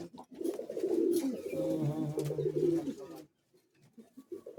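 Racing pigeons at a club competition in Bagnan coo in soft, throaty, repeated rolling calls up close for about three seconds, then go quiet.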